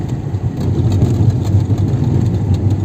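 A car drives along a road through a series of tunnels, heard from inside. A steady, loud low engine drone and road rumble run throughout with no speech.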